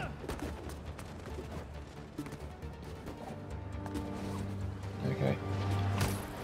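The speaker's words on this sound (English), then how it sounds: "Fireworks? Let's go have a look." Fireworks bursting in the video game Marvel's Spider-Man 2, a run of sharp pops and crackles over a steady city hum, growing busier and louder toward the end.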